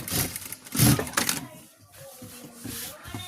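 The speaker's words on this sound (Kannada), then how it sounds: "ನೋಡಿ ಈ ಥರ ಹೊಲಿಗೆ ಹಾಕ್ಕೊಳ್ಳಿ" A sewing machine stitches a lined embroidery blouse, its motor whirring up in a close, loud burst, then easing into a quieter, uneven running hum.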